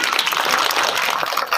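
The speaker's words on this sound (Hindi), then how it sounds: "ताली मारो।" An audience applauding at a school sports event, a brief close burst of dense, steady clapping from many hands.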